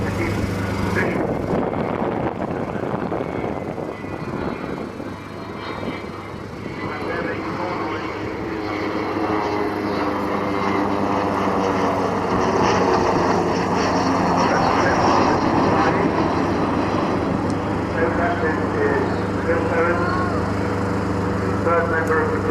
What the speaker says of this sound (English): An indication of how easy to handle the Vulcan is. You can go this slowly to keep position.